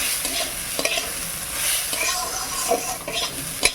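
Payesh, a Bengali rice pudding, is stirred in a cooking pot, with repeated scraping strokes of the spoon over a soft simmering hiss, close and fairly loud, with no talking.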